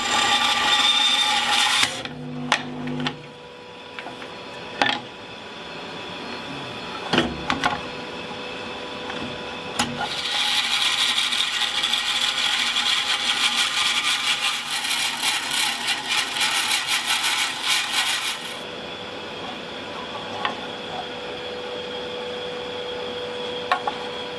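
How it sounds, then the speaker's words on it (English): Bandsaw cutting a wooden guitar body top salvaged from fence wood, with short bursts and clunks early, then a long loud steady cut of harsh buzzing and rasping that stops abruptly, leaving the motor humming alone. "that wasn't the easiest of bandsaw cuts that I've made"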